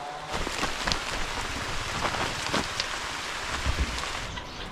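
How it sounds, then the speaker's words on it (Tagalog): Steady rain falls and patters on surfaces nearby, a dense hiss with scattered heavier drops. "kasi umulan na naman"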